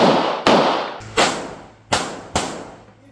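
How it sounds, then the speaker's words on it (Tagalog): Gunshots ring out at Strong Hand Shooting Range, five sharp, loud reports spaced roughly a second apart, each followed by a short decaying echo, with no talking between them. "Galing pala ni Kuya Jet pumotok, no"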